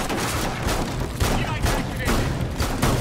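Rapid gunfire tears through a wall in the tactical shooter game Rainbow Six Siege, loud repeated shots in bursts across the whole stretch, with some game noise mixed in.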